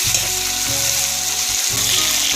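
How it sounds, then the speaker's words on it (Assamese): Potatoes fry in hot oil with a steady sizzle, loud and close, a dense hiss filling the clip with a low hum underneath and no talking. "আলুখিনি এনেদৰে কিছু সময় ভাজি ল'ব লাগিব"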